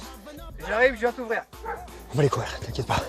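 A young dog yips, whimpers and barks excitedly behind a door while someone speaks French over it, the short eager dog sounds mixing with his voice.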